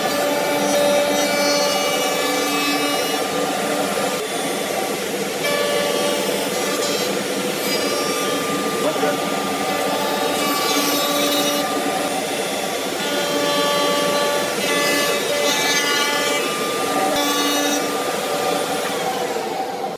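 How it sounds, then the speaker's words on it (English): Router table with a bearing-guided chamfer cutter routing wood for a garden stool or table, a loud, steady high-pitched motor whine with cutting noise, continuous and close throughout. "So here I've got the same chamfer cutter in the router table."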